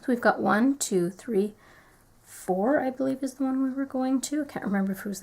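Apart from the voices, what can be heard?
None of the usual background noises is heard.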